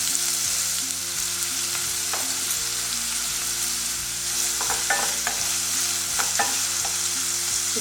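Two chopped onions with a little salt sizzle and fry in a hot pan while being stirred. A constant crackling hiss is broken by scraping stir strokes, close by, with no talking.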